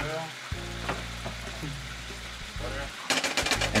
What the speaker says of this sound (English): All we gotta do is add a few tablespoons of canola oil